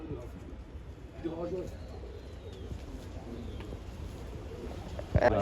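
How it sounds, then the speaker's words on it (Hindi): Pigeons coo softly in a loft holding a large flock, low repeated calls close by, with someone talking over them and a sharp knock near the end. "ये देखो कबूतर बैठ गए"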